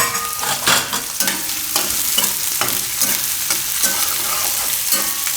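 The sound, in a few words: onions frying in a pan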